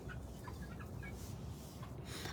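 Chickens kept at a home abroad, with soft clucks and gobbling calls rising over a constant noisy outdoor background, faint to moderate and close by.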